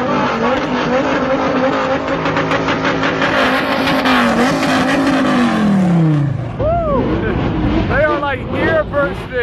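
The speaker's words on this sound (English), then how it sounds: "We got the Bugattis heading out." Bugatti sports cars drive out of a luxury car event in the Middle East, their engines roaring loudly and rising in pitch as they pass nearby, with tires squealing and people talking over them.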